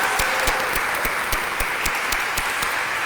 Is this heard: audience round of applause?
yes